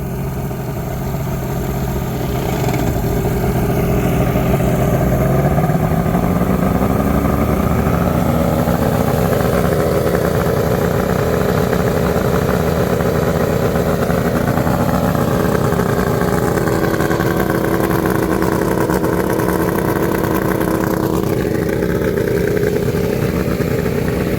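An outboard motor with a trim fault runs in reverse, making a steady, continuous mid-pitched engine drone that rises slightly early on and then holds. No one speaks over it.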